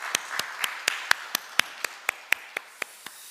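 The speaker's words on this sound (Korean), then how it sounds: "하나님께 감사의 박수를 한번 돌려드리겠습니다." A church congregation claps in thanks at the close of a Sunday worship service, heard as a light run of about a dozen evenly spaced, sharp claps that sound sparse rather than a full roar of applause.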